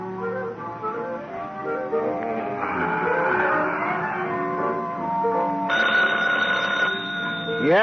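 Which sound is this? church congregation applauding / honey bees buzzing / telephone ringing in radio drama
telephone ringing in radio drama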